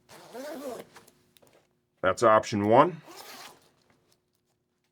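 Zipper on the vent panel of an Icon Slabtown Intercept 84 Limited Edition motorcycle jacket being pulled open, a short run of small ticks heard close-up between stretches of someone talking.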